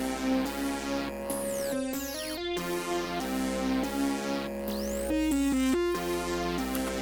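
Descending synth lead melody in an FL Studio rage beat, bright buzzy notes stepping downward in repeated phrases over a steady beat, with sweeping effects between bars, loud and continuous.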